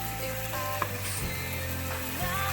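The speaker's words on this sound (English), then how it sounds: "Once it's all done, you're just going to stir it together" Philly cheese steak filling of meat and onions sizzles steadily in a pan while being stirred, with soft scraping strokes and occasional clinks over the continuous frying hiss, close and moderately loud.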